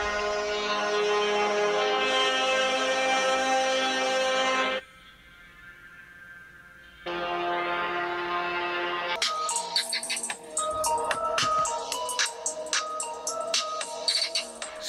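Music plays through the small built-in speaker of a Xiaomi Mi A2 Lite phone, loud and tinny, pausing briefly midway before resuming with brighter, sharper notes.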